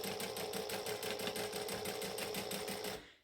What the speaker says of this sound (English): I'm just gonna stitch 1/8 of an inch from the edge